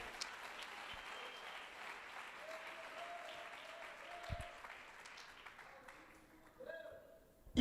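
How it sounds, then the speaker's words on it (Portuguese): Church congregation applauding in praise during a worship service, a steady wash of clapping with a voice talking faintly over it, fading toward the end. "Louve ele com as palmas, louve."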